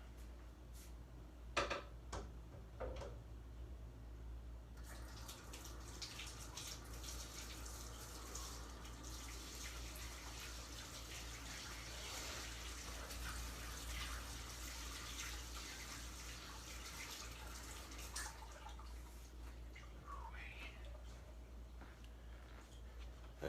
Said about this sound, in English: I'm gonna wash the pizza stone off.